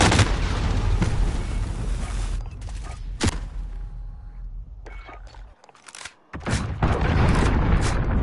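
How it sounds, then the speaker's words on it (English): An allied cruise missile strike in Call of Duty Warzone, heard as loud booming blasts and sharp explosive cracks, close and heavy, broken by a brief quieter stretch before the rumbling impacts return. "Allied cruise missile launched"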